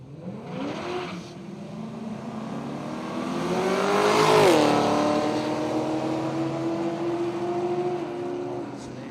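A drag race car at Willowbank Raceway launches off the line, its engine swelling from a rising roar to a loud peak, then dropping in pitch and holding a steady drone as it moves away.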